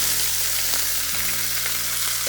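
Garlic, pesto sauce and tomatoes sizzle and fry steadily in a pan while being stirred, a close, continuous crackle with soft scraping and low background hum throughout.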